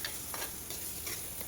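Spices and curry leaves being stirred in a hot pan, with a steady sizzle and a few scraping strokes of the spoon across the pan, close and alone.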